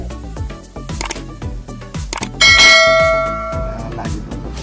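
A bright bell chime rings out and fades slowly, preceded by clicks and tapping sounds.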